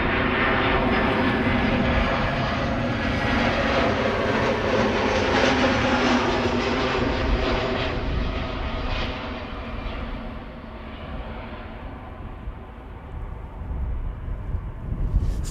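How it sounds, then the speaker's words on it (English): An EasyJet Airbus A320 arriving at Amsterdam Schiphol Airport produces a loud, sustained jet roar and whine that gradually fades and lowers toward the end, where a brief louder rumble returns. "This is EasyJet flight 22513 arriving from London Luton"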